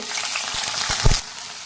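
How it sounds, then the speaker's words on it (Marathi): Cauliflower hisses and crackles as it sautés in hot oil over a high flame, a brief loud sizzle with a couple of stirring knocks. "आपण थोडासा फ्लावर परतून घेणार आहोत आता तेल गरम झाले"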